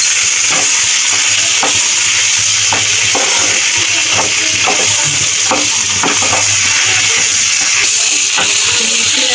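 Mochar ghonto, a Bengali banana flower curry, being stirred in a pan after sugar is added, with a continuous sizzle and hiss under irregular scraping strokes of the spoon, loud and close.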